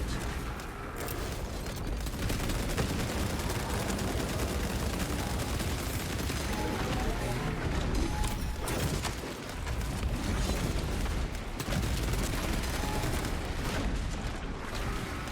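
Heavy Bolter fire in Space Marine 2, a dense, continuous stream of loud gunfire and booming impacts running through the whole stretch with barely a break.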